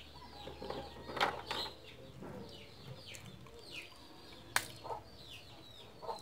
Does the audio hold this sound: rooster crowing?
yes